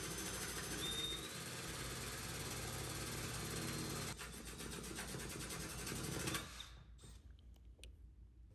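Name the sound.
power drill boring through tile and grout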